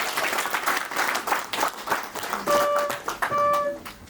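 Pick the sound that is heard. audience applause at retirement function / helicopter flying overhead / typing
audience applause at retirement function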